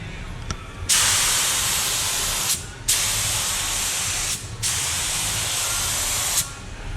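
A spray gun sprays primer onto a GMC Sierra 1500 pickup in long loud hissing passes, broken by short pauses between strokes.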